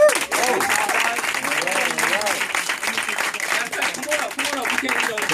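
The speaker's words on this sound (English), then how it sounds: "So let's give them a round of applause." Audience applause at a Super Saturday event, dense clapping filling the room throughout while voices talk and cheer over it.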